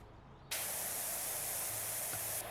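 A pressure washer sprays in PowerWash Simulator 2, starting abruptly after a short quiet moment and holding as a loud, steady, broadband hiss to the end.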